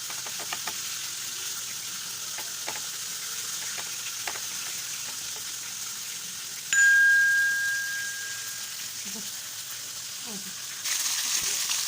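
Small pieces of breaded fish, dipped in water, fry in hot oil in a home kitchen, giving a steady, quiet sizzling hiss. A single bright ding rings out partway through, and the hiss swells slightly near the end.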